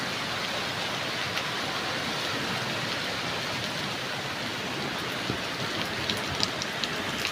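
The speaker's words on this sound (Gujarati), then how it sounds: "વરસાદ બહુ સારો વરે જો ઉપરથી નેવાનું પાણી પડવા માંડ્યું" Steady rain pours and drips continuously from the eaves, a dense hiss with scattered sharper drops, close by and fairly soft, with no voices.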